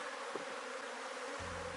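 A mother swarm of honey bees at a small apiary gives a steady, dense buzzing hum that fills the whole clip. A deeper rumble joins near the end.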